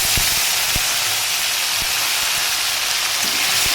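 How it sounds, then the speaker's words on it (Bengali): Ginger paste with salt and turmeric sizzles loudly in a hot pan of oil, a steady close hiss broken by a few faint taps of the spoon as it is stirred, for a vegetarian cabbage kofta curry. "আদা দিয়ে আমি এটা একটু নেড়ে নিচ্ছি"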